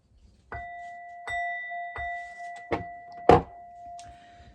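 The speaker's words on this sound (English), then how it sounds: "Let's ring the bell." A bell is struck several times, each strike leaving a clear, sustained ringing tone that overlaps and lingers in a quiet room.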